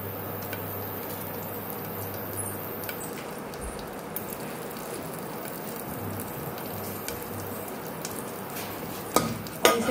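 Green chillies sizzle in hot oil inside a pressure cooker, a steady crackling fry close up that runs unbroken, joined near the end by sharp clattering scrapes of a stirring spoon against the metal, with no talking.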